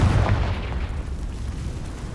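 A Confringo blasting spell explodes in Hogwarts Legacy, a loud, close burst with a heavy low rumble that holds steady and rolls on for a couple of seconds.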